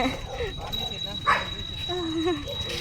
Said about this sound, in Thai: อย่าเห่าอย่าเห่า